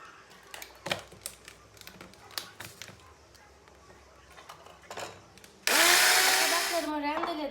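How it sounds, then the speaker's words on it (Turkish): Rolled oats ground into flour in a kitchen food processor for zucchini fritters: a few light clinks and clicks, then the motor bursts in loud and near with a steady high whirring roar for the final two seconds. "Ben bu yulaf ezmesini şimdi robottan geçireceğim. Onu un haline getirip mücverimin içine onu ekleyeceğim."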